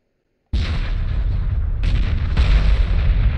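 Ships in Homeworld Remastered open fire with all weapons on a target, a sudden loud booming barrage of heavy artillery-like blasts that starts abruptly and rolls on with overlapping explosions.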